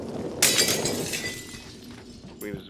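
Glass fish tank breaking in the video game Prey: a single sharp shatter with a brief rain of falling shards that fades out, followed by a short faint knock near the end.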